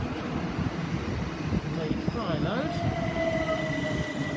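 A passenger train passes through Gatwick Airport station on the Brighton Main Line, a steady loud rumble of wheels with a rising squeal and whine partway through.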